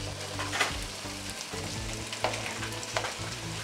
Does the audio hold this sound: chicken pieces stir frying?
yes